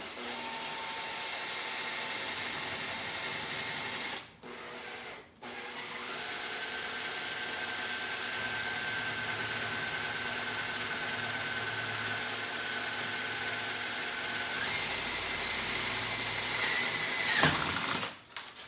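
A power drill whirs steadily for a long stretch drilling into a bamboo bike frame, with two brief pauses early on and a rising whine near the end, fairly close.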